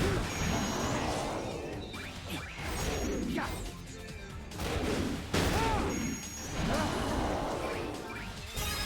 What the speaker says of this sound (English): The very violent explosion sound effects really sell it for me.